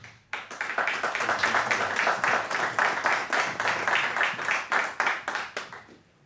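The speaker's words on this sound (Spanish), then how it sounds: "Recibamos al disertante con un fuerte aplauso" An audience gives a strong round of applause to welcome a lecturer at a Latin American political talk, brisk rhythmic clapping that swells in quickly and carries evenly for several seconds before fading.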